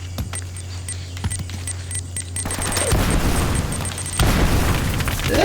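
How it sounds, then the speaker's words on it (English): Grenades detonate in Uncharted: Drake's Fortune, two loud booming blasts a little over a second apart, each followed by rumbling debris and clattering, after a stretch of lighter gunfire. "Did they just throw 2 grenades at me at once?"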